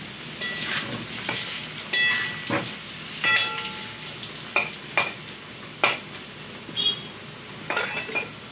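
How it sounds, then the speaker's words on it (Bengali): Potatoes frying in hot oil with turmeric in a kadai, a steady sizzle broken by repeated sharp clinks and scrapes of a metal spatula stirring against the pan, no voices. "কড়াতে আলুটা ভাজবো।"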